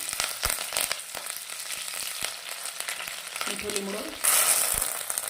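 Green chillies go into hot oil where fenugreek seeds are already spluttering. Close crackling and popping sizzle is broken by occasional sharp taps, and a louder, brighter hiss swells near the end.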